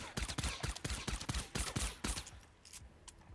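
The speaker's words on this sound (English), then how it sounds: "And here's how fast the fire rate is without any fire rate perks." Rapid bursts of Whisper .45 military pistol fire in Fortnite Save the World, about a dozen sharp shots in quick succession, loud and close, thinning out toward the end.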